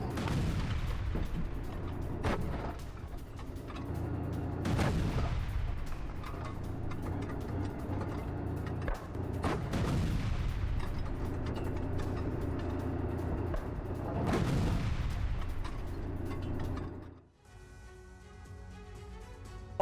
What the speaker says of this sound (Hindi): T-72B टैंक से रूस ने किए हमले, यूक्रेन के कई सैन्य वाहन हमले में नष्ट।